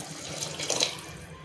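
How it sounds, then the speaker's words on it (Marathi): Water splashes steadily into a pot of partly cooked chickpeas being made into chole masala. The pour is close and moderately loud, with a brief swell in the middle and no talking. "आपल्याला त्याच्यामध्ये थोडं पाणी टाकून शिजून घ्यायचे"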